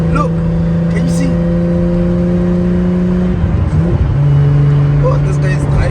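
A car drives by with a steady droning engine tone that shifts pitch midway, close and loud, with people talking over it.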